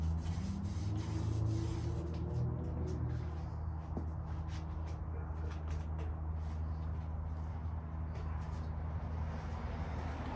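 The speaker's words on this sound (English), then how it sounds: "So Scotch-Brite the surface." A Scotch-Brite pad scrubs the surface around a Toyota Tacoma front differential plug, making faint, rapid rubbing strokes over a low steady hum, close and quiet.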